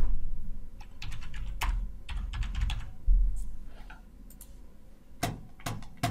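Rapid keyboard typing while entering email addresses into a Power BI sharing dialog, with irregular bursts of key clicks over a low background hum, close and moderately loud, no talking.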